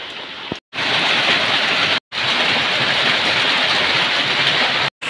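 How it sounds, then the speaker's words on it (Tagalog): Heavy typhoon rain from Typhoon Kristine pours in a dense, loud, continuous roar close by, broken by a few brief silent gaps, with no talking. "Yung apaw yung tubig, masyadong malakas na naman yung ulan."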